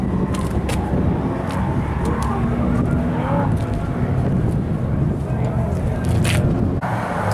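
A Mazda RX-7 fitted with a 5-liter small-block Ford 302 V8 and an automatic gearbox drifts at a practice event, its engine a steady loud roar under wind buffeting from outdoors.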